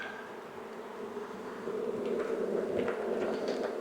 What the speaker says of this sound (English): you guys can see just the amount of bees that are flying around here